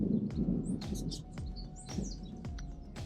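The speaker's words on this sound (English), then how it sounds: "It was nice to see this pair of saffron finches at the water plant." A pair of saffron finches at a water plant on Bonaire giving short high chirps and tweets, several scattered calls over faint low background noise.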